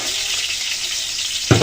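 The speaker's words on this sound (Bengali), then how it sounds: "এই তেলের ভিতরে আমি তরকারিগুলো ভেজে নিচ্ছি।" Vegetables frying in hot oil in a pan, a steady close sizzle and crackle with a brief louder stir or clatter at the end.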